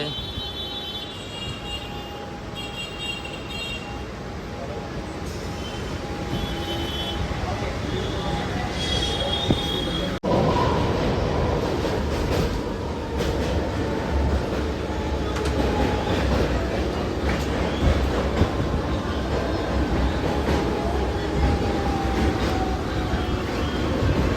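A train pulls into CSMT station and runs on. High wheel squeals ring over a rumbling, rattling roll that grows fuller and louder as it moves, with faint voices in the background.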